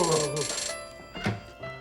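A telephone rings with a bright, electronic, tonal ringtone that sounds loud and close at first, then fades as brief speech comes in.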